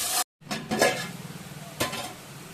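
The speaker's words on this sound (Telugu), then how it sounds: "ఆనియన్స్ అండ్ పచ్చిమిర్చి ఇలా పొడుగ్గానే కట్ చేసి పెట్టుకున్నాను. వేసుకొని గోల్డెన్ బ్రౌన్ వచ్చేంత వరకు వీటిని వేయించుకోవాలి." Sliced onions and green chillies frying in a pan for a mutton curry, a soft sizzle broken by clinks and scrapes of a spoon against the pan, with a short silent gap near the start.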